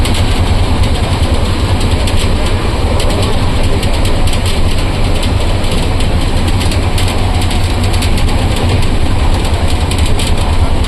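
A loud, steady engine rumble drones throughout with no pauses, close and constant like an idling train.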